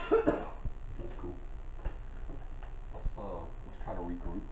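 A person coughs a few times, close and fairly quiet, with some throat-clearing in among murmured speech in an indoor setting reportedly a hotel.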